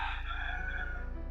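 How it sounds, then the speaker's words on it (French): A rooster crows once, close and loud, a single drawn-out cock-a-doodle-doo lasting about a second. "Là, c'est mon coq qui vient de donner le signal"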